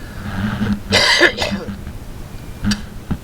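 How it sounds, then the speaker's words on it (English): A harsh, close cough with throat clearing, a rough burst followed by a couple of smaller hacks. "I'm still coughing it up."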